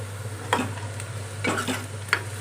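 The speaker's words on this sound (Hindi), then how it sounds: "ये बन रहे हैं दाल का तड़का लगा रही हूँ।" Sizzling dal tadka as spices temper in hot oil in a pan, a steady frying hiss with a few louder bursts of crackle and stirring, no talk.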